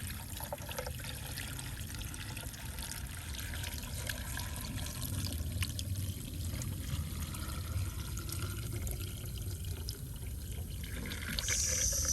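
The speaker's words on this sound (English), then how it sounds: "I'm just gonna slowly pour that in." A muriatic acid and water mix is poured slowly into pool salt cells, giving a steady close trickle and gurgle of liquid that runs continuously at moderate loudness without pause.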